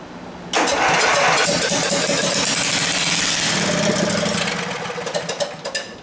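An Ariens Emperor V-twin snowblower engine starts and roars loudly up close for several seconds, then sputters and fades into uneven pulses as it stumbles.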